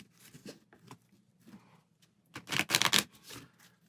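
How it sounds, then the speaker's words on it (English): A small deck of board-game resource cards shuffled up close, light scattered taps at first, then a dense, louder riffling burst near the end before settling into soft handling sounds. "we'll go ahead and give our resource cards a shuffle"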